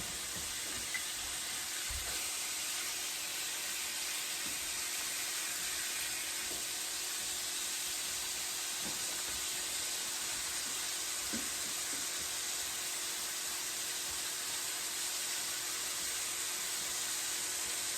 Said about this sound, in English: Real nice sizzle.